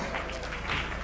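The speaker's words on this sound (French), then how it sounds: "Applaudissez très fort pour le Seigneur Jésus." A church congregation applauds for the Lord Jesus, dense continuous clapping from many hands filling the room, loud and steady for a brief moment with no talk over it.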